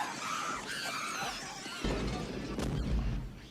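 Loud rumbling blasts and crashing debris from explosions in the film Gremlins (1984), a booming explosion that erupts midway and rolls on with heavy low rumble.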